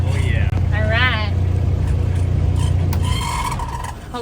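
A sailboat's engine runs with a steady low rumble and throb, loud and close, as people talk over it, then the sound eases down toward the end.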